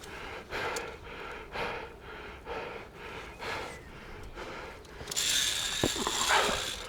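Via ferrata lanyard with a swivel handled at close range: repeated soft metallic clicks and rattles of carabiners and swivel, with breathing and a brief brighter jangle near the end.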